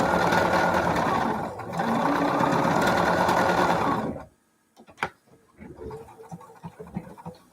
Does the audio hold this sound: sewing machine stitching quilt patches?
yes